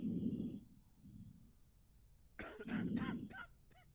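A video game character coughs several times in close, harsh bursts, with a pause between a first pair of coughs and a later cluster.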